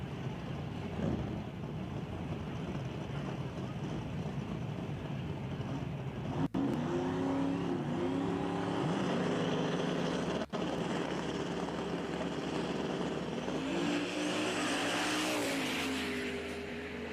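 A Mustang and an S10 race side by side in a small tire drag race at Brainerd. Engines roar at a distance, then rise and swell into high-revving passes as the cars launch and speed away.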